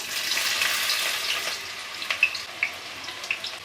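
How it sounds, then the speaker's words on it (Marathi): Chopped onion dropped into hot oil in a wok for a Koli-style prawn curry, a close bright sizzle that swells at once then crackles with sharper pops as it settles, no talking. "कढईमध्ये मी तेल तापून घेतलेलं आहे। आता यामध्ये आपण कांदा घालूया,"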